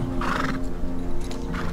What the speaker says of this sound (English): The only noise you can hear are the stamps and snuffles of horses